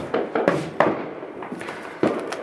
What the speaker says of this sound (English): you can record some fireworks.